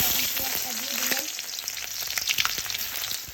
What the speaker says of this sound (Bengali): রান্না করার জন্য একটা তেল দিয়ে দিয়েছে কড়াইতে তেলটাকে গরম করে নিয়ে